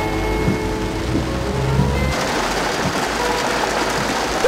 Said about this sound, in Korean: 분명히 비가 안 온다 그랬는데 갑자기 비가 오네요